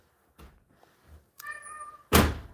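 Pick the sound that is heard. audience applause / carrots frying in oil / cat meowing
cat meowing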